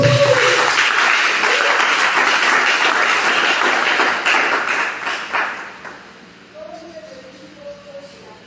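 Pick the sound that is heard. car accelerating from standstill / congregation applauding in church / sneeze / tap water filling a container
congregation applauding in church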